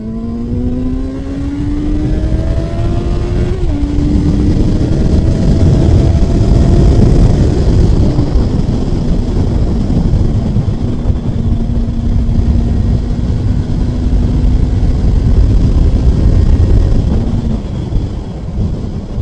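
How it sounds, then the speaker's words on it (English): A Honda CBR 650F sports-tourer motorcycle accelerates hard while carrying a pillion, its loud engine note climbing steadily through the revs, dipping briefly at a gear change, then pulling on continuously with no talk. "I'm going to show you how powerful the bike is"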